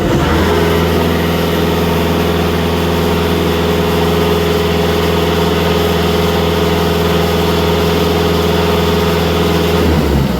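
Diesel engine of a Skoda Superb or VW Caddy idling, warmed up, after ash removal from the particulate filter; a steady, loud, even low rumble held for about ten seconds with no talk.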